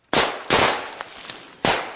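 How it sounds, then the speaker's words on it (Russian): A grenade exploding in an enemy dugout during close trench combat in Ukraine: a sharp, very loud near blast, a second crack moments later with small pops and clinks, then another sharp bang, no talk. "After the grenade lands in their dugout, Russians begin firing back."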